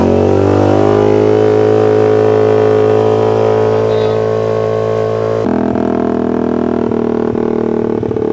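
A pit bike engine idling and revving loudly and continuously up close, a droning motor tone that shifts pitch partway through, with no talk over it.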